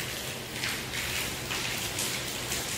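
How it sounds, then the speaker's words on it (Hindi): Light rain falls steadily in a rural area, a soft, even hiss of drops on surfaces close by with faint patters, quiet and continuous with no voices. "बारिश शुरू हो गई हमारे यहाँ भी"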